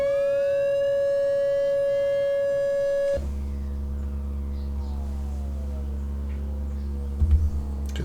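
Eurorack synthesizer using self frequency modulation with glide on the modulation source: a steady pure electronic tone, then a sudden shift to a buzzy, low drone with sliding overtones, plus a brief thump near the end.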